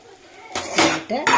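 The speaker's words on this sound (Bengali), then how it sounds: "চলুন আপনাদের ঢেলে সেময়টা দেখিয়ে দিই" Dry fried vermicelli (semai) poured from a pan into a dish, a loud close rustling clatter with metal scraping against cookware in short bursts.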